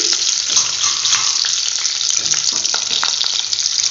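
Green chillies and spices frying in hot oil, a loud, steady, close sizzle with crackling pops throughout and no talk.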